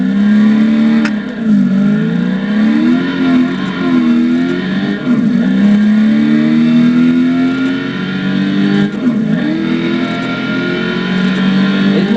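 A Ford Shelby Mustang GT500 engine roars loud and close as the car is driven hard, its pitch rising and falling through repeated acceleration and gear changes without pause.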